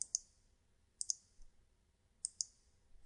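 Computer mouse clicks in on-screen take-off estimating software, three quick double clicks spaced about a second apart, crisp and close against a quiet background with no talk.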